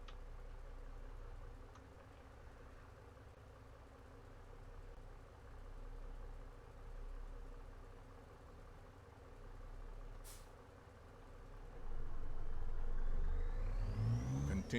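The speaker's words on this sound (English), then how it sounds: "this engine has good torque off the line" A truck engine in American Truck Simulator, hauling a cattle trailer from Lamar, Colorado, to Dalhart, Texas, rumbles low and steady for a long stretch, then pulls louder and rises in pitch as it accelerates near the end, with no talk.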